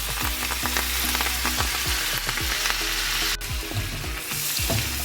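Garlic, lime and parsley frying in butter in a pan beside lobster, a loud dense sizzle with crackling pops and repeated scraping stirs, close and continuous, no voices.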